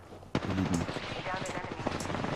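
Automatic gunfire in an arena shooter game opens with a sharp close crack and continues in rapid rattling bursts, with voices speaking over the shooting.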